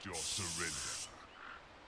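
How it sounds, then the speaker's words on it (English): A spray ability in the video game Dota 2 lets out a bright hissing burst for about a second over a commentator's voice, then fades to a softer hiss. "Popping the spray as well."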